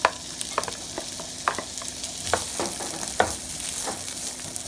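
Frozen peas and carrots hitting a hot pan with garlic, giving a steady close sizzle with scattered crackles and the scrape of stirring.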